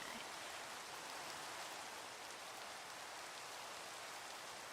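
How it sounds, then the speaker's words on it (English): Steady rain falls in a Minecraft world, a constant dense hiss of drops with no breaks, soft and even throughout and no voices. "Dark in the rain."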